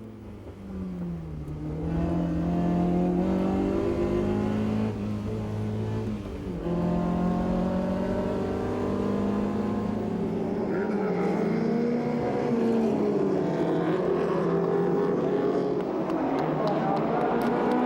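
Jean Ragnotti's little Alpine race car on an onboard lap of the Tour Auto, engine droning loud and steady with rising and falling revs through gear changes, a voice talking faintly beneath.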